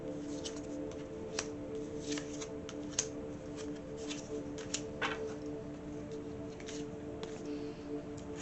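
Tarot cards being shuffled by hand, soft riffling and scattered crisp snaps over a steady low hum, close and quiet with no talking.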